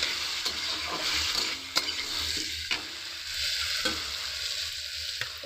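Spice paste with cooking water frying for a vegetarian soybean curry, a constant loud hissing sizzle under repeated spatula stirring, with several sharp clicks of the utensil against the pan, close by and without talk.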